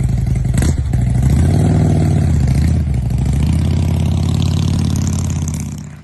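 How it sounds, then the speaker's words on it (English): A custom Harley-Davidson motorcycle engine rumbles steadily at idle, loud and close, with a brief rev early on before settling into a sustained deep throb that fades slightly at the end. "Harley Davidson."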